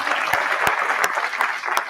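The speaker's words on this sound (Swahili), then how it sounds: "Tumshangilie tafadhali mpaka apige dais." An audience claps for the CCM arriving at the dais at a Community Land Summit, dense steady applause with a few sharper individual claps standing out, with no speech over it.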